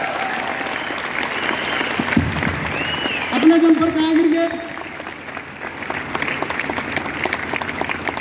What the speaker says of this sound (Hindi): जोरदार ताली जरूर चाहूंगा